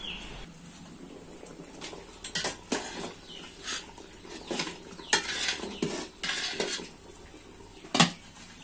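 Bottle gourd khatai with tamarind being stirred in a pot, with repeated clinks and scrapes of a utensil against the pot rim and a few sharp knocks over a quiet kitchen background.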